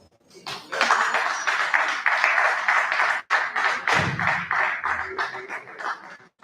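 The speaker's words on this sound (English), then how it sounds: "can we give the presenter a round of applause?" Audience applause for a presenter at an in-house meeting: a dense, steady round of clapping that fills the room, loud and continuous for several seconds, briefly broken and then resuming with some scattered taps.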